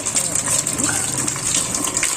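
Water gushes steadily from a tap as tripe (boti) is washed in a kitchen, rinsed again in hot water. The stream is close and continuous.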